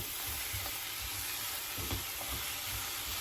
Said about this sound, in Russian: Продолжаем пассеровать овощи уже с морковью.